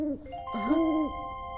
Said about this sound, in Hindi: ये एक उल्लू की आवाज है।